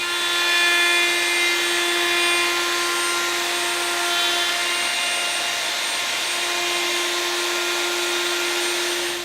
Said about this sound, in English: Now that you've routed all the edges,